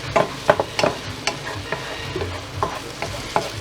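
Onions sauté in a pan with a soft, steady sizzle, broken by several sharp scraping clicks as a utensil stirs and taps against the pan, close by and with no voices.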